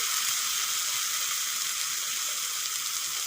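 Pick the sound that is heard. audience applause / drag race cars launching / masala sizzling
masala sizzling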